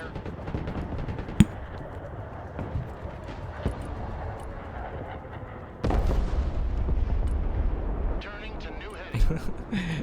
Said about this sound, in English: The player also drops in more bombs here